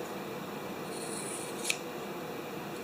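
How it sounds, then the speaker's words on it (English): Scissors snip and slide through fuzzy sock fabric while rounding off its top edge, a soft close rasping cut with one brief crisp click, and no talking. "And then I'm going to trim the top part here just so it's rounded."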